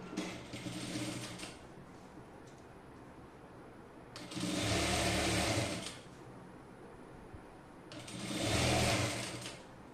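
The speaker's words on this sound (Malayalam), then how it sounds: "ആദ്യം കാലിഞ്ച് മടക്കി എന്നിട്ട് അരയിഞ്ച് മടക്കിയിട്ട് ഫുള്ളായിട്ടൊന്ന് സ്റ്റിച്ച് ചെയ്തെടുക്കണം" Sewing machine stitching a double-folded hem on a child's crop top, running in three loud bursts separated by quieter pauses, with no talking.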